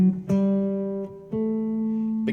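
A Mixolydian mode scale, a major scale with a flattened seventh, played on a sustained tonal instrument in a blues lesson, a handful of distinct held notes up close with no voice.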